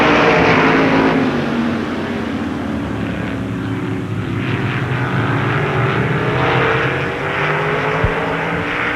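Winged sprint cars racing at Baer Field Speedway, a loud sustained engine roar that swells and fades as cars pass, with pitch sweeping across several overlapping engines throughout.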